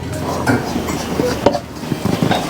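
Bowls and dishes clatter and clink on a kitchen counter while Shan-style Thai fermented rice noodles with a crispy topping are prepared, with light stirring and scattered knocks and some talk around them.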